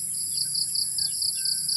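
Crickets trill steadily in a rice farm field at harvest time while a sparrow's short, pulsing calls repeat close by against a quiet background.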